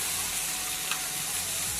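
Onions and potatoes sizzling in a pan for upma in a home kitchen, an even steady hiss with a brief clatter near the end.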